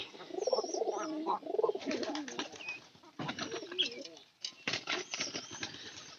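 Several local pigeons coo close by in soft, throaty, overlapping calls, with brief pauses between bursts.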